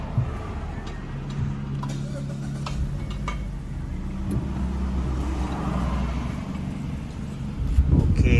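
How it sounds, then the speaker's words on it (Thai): A Mazda car engine with its i-stop system disabled runs at idle, a low steady rumble with faint ticking and a slight rise in revs near the end. "เดี๋ยวเรามาลองสตาร์ทรถกันเลย"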